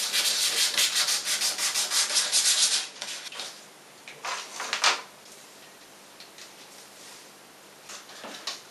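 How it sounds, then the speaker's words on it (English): Sandpaper scraping the inside of a plastic bottle sleeve for a water rocket splice, with steady rapid rubbing strokes for about three seconds, then softer, intermittent scuffs that fade out. "Take your sleeve and sand the inside."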